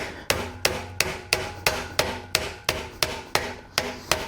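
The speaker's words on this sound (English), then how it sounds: "got me a little pin punch and a little hammer here. I'm gonna hit on this axle" A hammer strikes a pin punch on a toy hauler axle in a steady rhythm, about a dozen sharp, close taps evenly spaced with a ringing ring-off after each blow.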